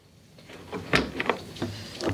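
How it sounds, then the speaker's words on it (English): A Harvest Right freeze dryer door is opened: a short series of soft clunks, a latch click and a rubbery seal release, heard close and fairly quiet with no talking. "So at this point, we should be able to open our door."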